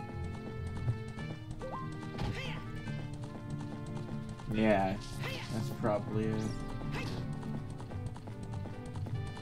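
A horse galloping in Zelda: Ocarina of Time, rapid hoofbeats under game music with a brief flurry of louder effects midway, while a person talks over it.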